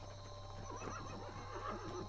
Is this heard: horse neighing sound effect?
yes